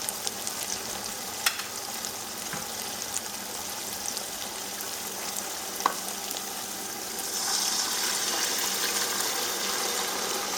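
Broth and crayfish going into a simmering vegetable stew with tomato, giving a steady sizzling, bubbling hiss with a few small clicks and a louder splashing gush near the end, close and alone.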